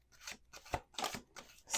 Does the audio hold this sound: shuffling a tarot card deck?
yes